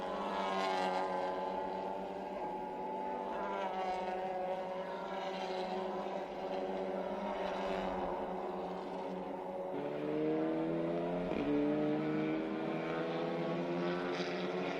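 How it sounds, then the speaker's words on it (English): TCR touring race cars brake into turn one at Interlagos, their engines a loud, continuous blend of overlapping tones that drop and shift in pitch as the drivers downshift, with a sharp change around the midpoint. "here are the cars breaking into turn number one"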